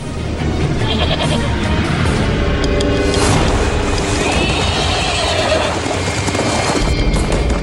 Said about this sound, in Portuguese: Um animal que dá a qualquer ser humano que saiba domá-lo uma vantagem quase imbatível. É o cavalo.